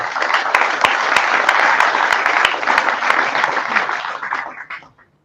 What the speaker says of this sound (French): Je vous demanderai d'applaudir Philippe Grossrieder.